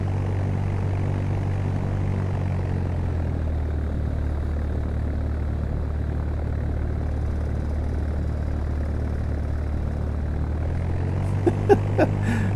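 Steady propeller aircraft engine drone from a flight simulator, Fly! 2K, as a small plane is parked at Peoria, Illinois, holding a constant low hum throughout, with a few faint clicks near the end.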